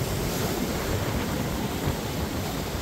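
Rough sea surf breaking hard on a rocky fishing shore, a continuous loud roar of crashing waves with wind buffeting the microphone and no voices.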